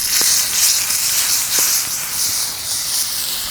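A steak sears in a smoking-hot preheated cast iron pan, a loud, continuous broad hiss and sizzle close up with a couple of faint knocks.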